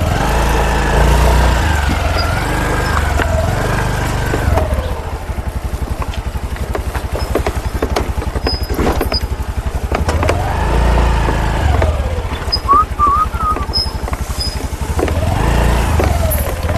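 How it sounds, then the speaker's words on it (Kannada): A scooter rides off-road on a day trip out of Bengaluru toward a hill trek, its engine droning steadily up close, with revs rising and falling and rough bumps along the way. "ನಾನು ಈ ಗಾಡಿ ಇಟ್ಕೊಂಡು ಆಫ್ ರೋಡಲ್ಲಿ ಸರ್ವೆ ಮಾಡ್ತಾಯಿದ್ದೀನಿ"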